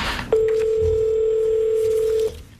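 A steady telephone dial tone drones for about two seconds while a call is placed, clear and alone, after a brief burst of sound at the start.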